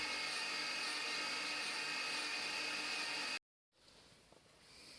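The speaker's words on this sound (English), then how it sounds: "The ground sides are held on the magnetic chuck and the two blocks are ground together." A surface grinder grinding two steel blocks held on a magnetic chuck gives a steady high-pitched whine, then cuts off abruptly to silence before a quieter hum returns.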